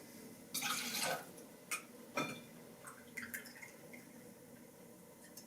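Pineapple juice from a carton pours in two short bursts into a cocktail shaker, a splashy rush followed by a few quieter drips and clinks.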